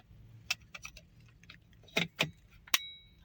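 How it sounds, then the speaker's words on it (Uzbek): Mechanical key for an Isuzu D-Max pickup being fitted into place, giving a few sharp metallic clicks and jangles close by, one near the start and three louder ones toward the end. "ana endi mana bu mexanический kaltni joyiga qo'yib olamiz"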